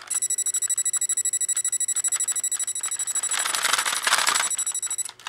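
An electronic rocket-firing effect from a Power Rangers Dino Zord toy, set off by a red switch on its back: a rapid pulsing electronic beeping that swells into a harsher burst before stopping abruptly.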